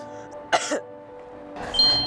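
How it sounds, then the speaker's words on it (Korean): A single short, dry cough bursts out near the start, followed by a brief throat sound, then quiet before a hiss of noise at the end. "계속되는 마른 기침"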